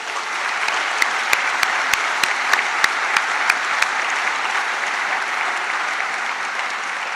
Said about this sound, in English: Please, everybody, I'm sure you don't mind giving them a round of applause.